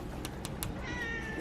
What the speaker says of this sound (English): oh look, our little kitty cat's waiting for us.